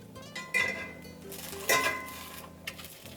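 Arepas are flipped in a skillet with a few clinks and scrapes of utensil on metal, close and moderately loud over a faint steady sizzle.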